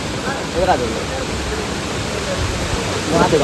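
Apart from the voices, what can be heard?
waterfall pouring down from above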